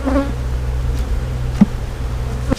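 Honey bees buzz steadily and close during a fall hive inspection, a continuous droning hum with a few faint clicks and knocks from handling the hive.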